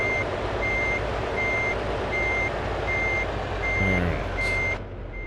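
A Volvo day cab truck pulling a trailer reverses in Euro Truck Simulator 2, its backup alarm beeping in a steady, evenly spaced series over a continuous engine drone, followed near the end by a short hiss of air.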